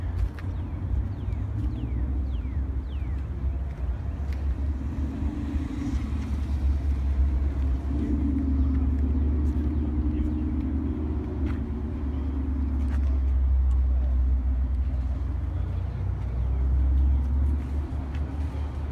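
Classic car engine rumbling low and steady at a cruise-in, a continuous deep drone that swells slightly midway and again near the end, with faint background noises over it.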